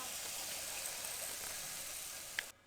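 Donuts deep-frying in hot oil make a continuous close sizzle and hiss that holds steady, then cuts off sharply near the end.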